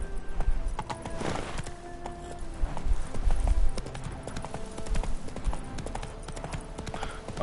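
Hooves of Roach, a horse in the game The Witcher 3: Wild Hunt, pound in a fast, steady galloping rhythm for the whole stretch, loud and close, with a brief whinny early on.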